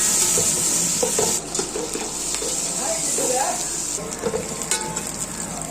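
Onions sautéing in oil in a home kitchen, sizzling and crackling steadily with occasional stirring scrapes and clinks of a utensil against the pan.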